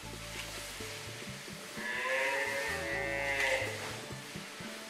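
Cows on a well-ventilated dairy farm give long low moos, several calls overlapping in sequence at moderate distance, with one rising drawn-out call in the middle, no talking.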